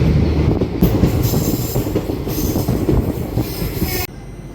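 An Indian Railways express train running near Katpadi Junction, with a loud, continuous rumble of wheels on rails, rattling carriages and squealing wheels, before the noise drops sharply near the end.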